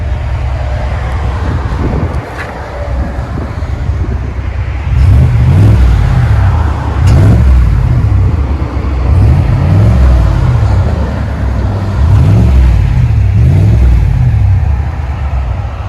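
A 2020 GMC Sierra AT4 with dual Magnaflow exhaust idles with a deep, rumbling, throaty, pulsing note, close by and fairly loud, with a few brief swells.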